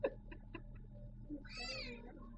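A cat lets out a single drawn-out meow, faint and somewhat distant, after a few soft taps, over a low steady room hum.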